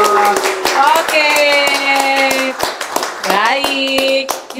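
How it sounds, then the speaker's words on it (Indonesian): People clap in quick, rhythmic bursts at a prize draw event for Deka Wafer by PT Dua Kelinci. The clapping is close and punchy, with voices and tonal sounds mixed in underneath. "Boleh kasih tepuk tangan dong."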